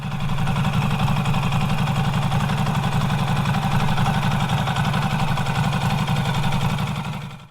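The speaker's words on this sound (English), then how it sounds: "like the engine on this bike. It is mechanically loud" A Norton Commando 961 motorcycle engine runs steadily at a loud, mechanically clattery idle with a rapid low throbbing pulse, close up and continuous with no speech.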